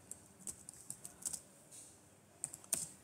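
Keys clatter on a computer keyboard in quick, uneven bursts of taps with short pauses between them, close but quiet in a calm room.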